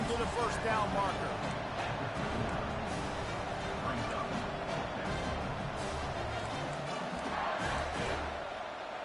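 A football stadium crowd at a Miami versus LSU game roars steadily in support of the defense, a dense, sustained wall of cheering beneath a commentator's talk.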